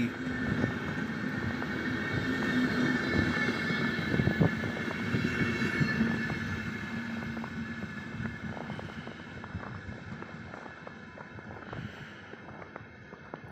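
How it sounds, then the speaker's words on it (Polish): A train runs through Bohumín station without stopping, a steady rumbling roar of passing wagons with rattling wheel clatter that swells early and slowly fades over about fourteen seconds. "Przejechał bez, przez Bochum bez zatrzymania."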